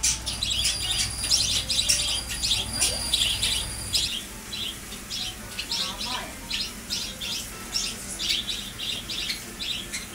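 A small bird in a shop chirps in rapid, repeated high tweets close by, a busy stream of short calls over a faint background hum.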